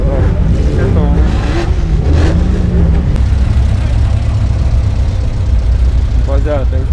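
A Porsche engine roars loudly and steadily up close, a dense, heavy low rumble running the whole time, with a voice briefly audible over it.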